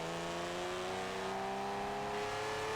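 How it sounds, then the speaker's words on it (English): A raspy engine in a video-game drift build revs steadily, its strong harmonic drone climbing slightly in pitch and holding loud and close throughout. "It sounds very raspy. I feel like this is the wrong engine for this car."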